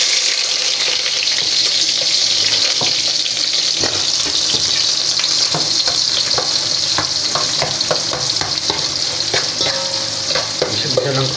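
Ginger sautéing in a pan for a chicken-feet and egg soup, a loud continuous sizzle and hiss up close with frequent clinks and scrapes of a spatula stirring, no voices.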